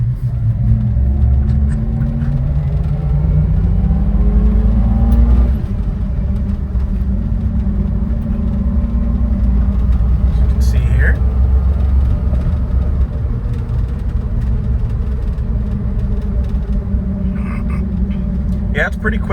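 The turbocharged K6A engine of a 1998 Suzuki Jimny with manual gearbox hums and rumbles steadily while driving, heard from inside the cabin as people talk over it throughout.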